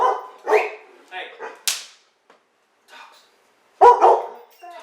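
Dogs bark in several sharp, close bursts separated by short quiet gaps, with a final loud round of barking near the end.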